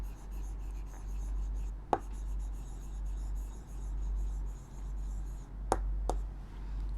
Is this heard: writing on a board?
yes